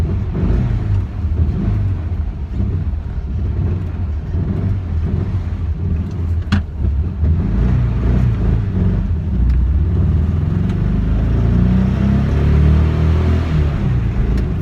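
A 1966 VW Bug with its stock muffler, needing a tune-up, runs steadily while driving, giving a constant low engine rumble that stays fairly even throughout.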